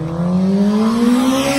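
A motorcycle revs as it passes along a street, its engine note rising in pitch and holding loud and close for a second and a half with no talking.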